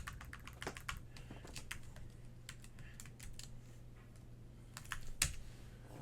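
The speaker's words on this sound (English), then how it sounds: "I gotta type my password here." Close, quiet keystrokes on a computer keyboard while a password is entered, irregular clicks in short bursts with pauses and one sharper tap near the end.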